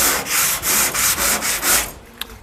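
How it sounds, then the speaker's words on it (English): Rhythmic back-and-forth scraping of sandpaper rubbed by hand over old black paint on a 1951 Chevy truck, about seven strokes in steady succession, close and fairly loud, then a brief tap. "I'm just lightly sanding this old black paint to provide a bit of a key"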